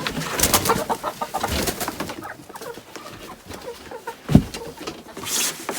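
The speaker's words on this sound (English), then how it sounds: "We like grooming our chickens." Backyard chickens cluck and coo in a low, steady murmur close by, with a louder squawk near the end, and no talking over it.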